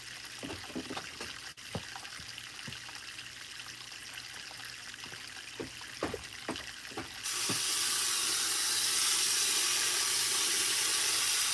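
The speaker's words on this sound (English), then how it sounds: "I need to put some water in there" Water poured into a gold sluice box during a live prospecting run, with a steady bright rush that grows sharply louder partway through, after a stretch of scattered clicks and knocks of the setup.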